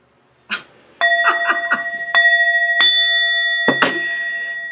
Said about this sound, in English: I'll just ring the bell.